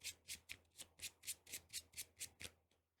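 A deck of playing cards for a Lord of the Rings card game being riffled in a quick, even series of about ten crisp, close flutters that slow and fade out at the end.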